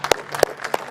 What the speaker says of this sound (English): Let's get a round of applause for Michael Buffer